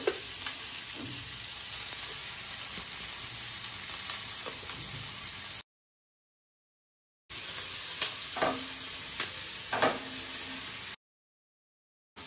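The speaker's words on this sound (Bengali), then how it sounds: "পেঁয়াজ আর হচ্ছে কিছুটা বিন ফ্রাই করে দেবো" Sliced onion and beans frying in a pan, a continuous crackling sizzle with occasional stirring knocks and scrapes, broken by two short gaps of silence.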